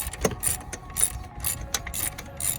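A ratchet with a swivel extension turns the belt tensioner on a 2004 Nissan Maxima 3.5 L, making a run of quick, crisp clicking pawl strokes in an uneven rhythm, close and fairly quiet, without speech.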